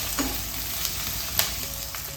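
Crushed ginger and garlic sizzle softly with onions in a hot pan, a steady, quiet frying hiss broken by a few faint stirring clicks.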